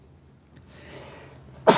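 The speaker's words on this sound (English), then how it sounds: "That gold paint just made me sneeze." A person sneezes after breathing in gold paint fumes, with a quiet breath building up and then one sharp, loud burst at the very end, close up.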